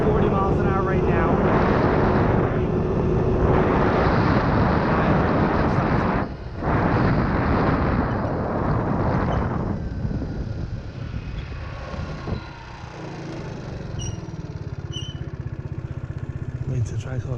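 A GY6 scooter engine held at full throttle while riding, a loud droning whine with wind rush that fades to a lower hum partway through, with a voice talking over it.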